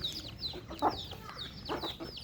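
A country hen clucks in short, repeated calls close by, with bird chirps in the background and no talk.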